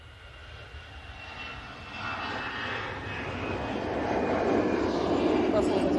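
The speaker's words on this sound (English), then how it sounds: "I've got an EasyJet on departure." An EasyJet airliner departs with its jet engines roaring, the broad rumble building steadily louder as the aircraft powers up and moves off at moderate distance, with no one speaking over it.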